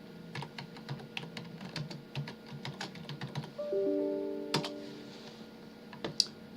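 Quick runs of clicking keystrokes on a computer keyboard, close and fairly quiet, tapping in short bursts with brief pauses between them, with a few faint tonal beeps near the end and no talking.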